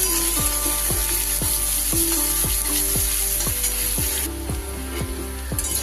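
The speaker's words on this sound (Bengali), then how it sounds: "পেঁয়াজটাও আমার বেশ আধ ভাজা হয়ে গেছে।" Chopped onions with a little salt sizzle loudly and steadily in a pan, while a faint electrical hum with regular ticking pulses runs underneath.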